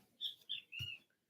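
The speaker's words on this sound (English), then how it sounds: "there's a stupid bird in the background." Kiskadee calling in the background outdoors, three short shrill chirps in quick succession, the last slightly longer, faint and distant with no talking over them.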